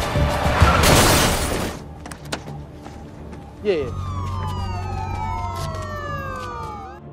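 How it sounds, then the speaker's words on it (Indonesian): After a loud crash, a police siren begins wailing with sweeping up-and-down tones, growing steadily louder as it approaches. "tiba-tiba terdengar suara sirene polisi dan suaranya semakin dekat"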